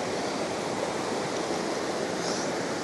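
A river stream at Rock Lemon campsite in Negeri Sembilan flows with a dense, steady rushing wash of water, loud and close, with no pauses.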